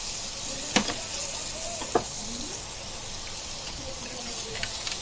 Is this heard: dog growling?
no